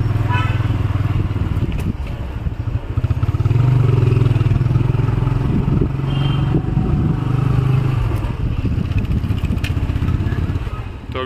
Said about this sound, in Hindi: अभी यश बाइक खड़ी कर रहा है